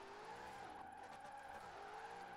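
A Lexus RC F drifts in Forza Horizon 4, its engine droning steadily with a faint tire squeal running underneath, constant and quiet throughout.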